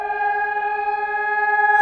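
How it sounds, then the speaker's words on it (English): A loud, sustained old air raid siren holds one steady wailing tone with strong harmonics, close and continuous throughout, with no voices. "It's an old air raid siren."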